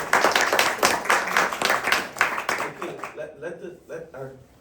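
A university class at FIU gives a round of applause for a guest speaker, in steady clapping that tapers off after about three seconds as a voice begins talking.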